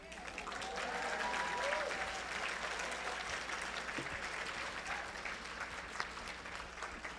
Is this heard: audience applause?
yes